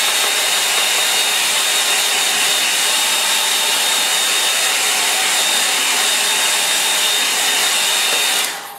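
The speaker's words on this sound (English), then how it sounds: "I'll use the hairdryer on that" A hairdryer blowing on a watercolour painting, a loud, steady, close whooshing drone that runs unbroken before switching off at the very end.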